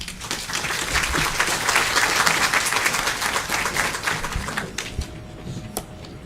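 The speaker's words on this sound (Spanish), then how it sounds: "Recibámosla con un fuerte aplauso." An audience applauds steadily at a formal commemoration ceremony for International Women's Rights and Peace Day, the dense clapping sustained throughout, then thinning and tailing off near the end.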